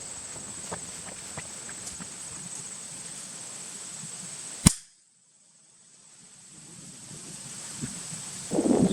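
A sudden sharp bang as gasoline mixed with a firework oxidizer ignites, then a brief hush before a steadily growing roar and crackle of burning.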